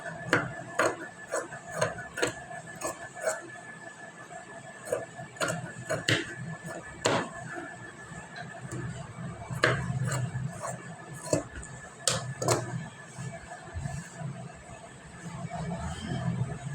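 Scissors cut blouse fabric in a steady run of sharp ticking snips, near and moderately quiet, with a faint background hum.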